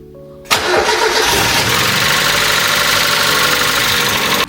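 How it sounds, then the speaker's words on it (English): A car engine, stored 13 years in a barn, cranks and catches with a sudden roar, then runs at a steady, slightly rough idle close by. "Engine is running."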